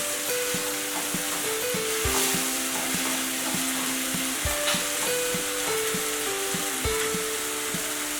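Chopped tomato sizzles and fries in a pan for a Mexican-style green bean dish, with a steady close crackle and regular scraping of a spoon stirring through it.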